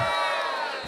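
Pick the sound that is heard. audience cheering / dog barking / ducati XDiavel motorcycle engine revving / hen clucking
audience cheering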